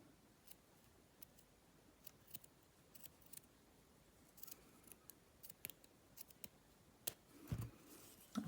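Scissors snipping through a crochet doily, a series of quiet, sharp cuts spaced irregularly, with a louder cluster of snips near the end.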